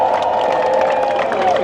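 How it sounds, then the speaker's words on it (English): A crowd cheers and claps at a tall ship parade in Boston as a Swedish crew sails past, a continuous, fairly loud wash of applause and shouts. "Let's give our friends from Sweden a cheer"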